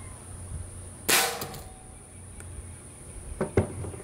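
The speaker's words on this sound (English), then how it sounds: "if I put a BB in here, it'll just fire the BB" BB gun shot hitting an old phone, one sharp snapping crack followed later by a couple of smaller ticks and a short clatter, close and crisp in a quiet setting.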